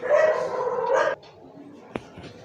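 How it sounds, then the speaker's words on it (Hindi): A dog barks in a loud, continuous burst for about a second, then goes quiet except for a single short yip, with faint room noise around it. "कितना भौंक रहा है भाई, शांत नहीं हो सकता क्या"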